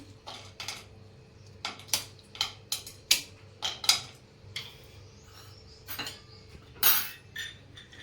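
Two large cinnamon sticks snap into pieces by hand for dabeli masala, giving about a dozen sharp, dry cracks in an irregular rhythm, close and clear against a quiet room.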